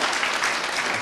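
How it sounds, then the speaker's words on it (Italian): Applause rises for rugby coach Giuseppe Milanese at an Abruzzo rugby gathering: a dense, steady wash of many hands clapping with no gaps. "Fate un applauso anche a lui."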